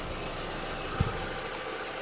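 A 1964 GMC truck engine idles with a steady, even broadband rumble, broken by a single brief low thump partway through, and no speech.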